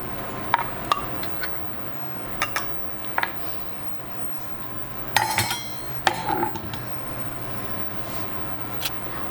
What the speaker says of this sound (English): we're just gonna put it through the press, the garlic press, and mince it